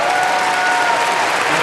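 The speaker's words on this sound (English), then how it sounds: "Taking the applause once again" Dense, steady applause from a large arena crowd for a Paralympic powerlifter, Murtaza Al-Janidi, at the Paris 2024 Games, loud and continuous throughout.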